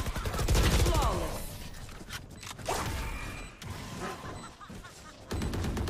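Gunfire in the video game Valorant crackles in quick bursts amid clicking mechanisms and game effects, with a voice speaking loudly over the shots at times.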